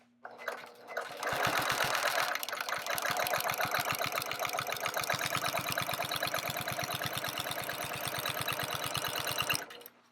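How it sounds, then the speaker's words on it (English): A sewing machine stitches a quilt up close in a fast, even run of needle strokes lasting about eight seconds, starting and stopping abruptly, with a faint steady motor hum beneath and no talk. "I'm going to back stitch, okay? Just to secure the stitch."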